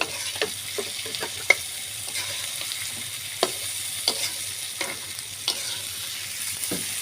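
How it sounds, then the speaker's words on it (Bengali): Pointed gourd and potatoes stir-fried in a pan, a continuous sizzle broken by regular sharp scrapes and taps of the spatula against the pan, close up with no talking. "আমাদের সুন্দর করে পটল আলু সুন্দরভাবে ভাজা ভাজা হয়ে গেছে"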